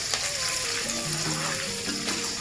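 Pieces of beef deep-frying in hot oil over moderate heat, a steady dense sizzle and crackle with faint tonal clinks, close and continuous with no talking.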